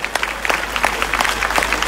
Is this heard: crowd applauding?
yes